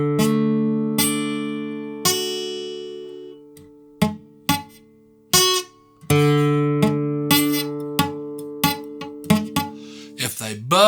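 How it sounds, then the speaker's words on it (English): Strummed acoustic guitar chords from a beginner lesson, some strings buzzing or dead where the fretting is not pressed hard enough; a series of separate strums and plucked notes with pauses, close and fairly loud, with no talking. "if they buzz, they don't have a solid note"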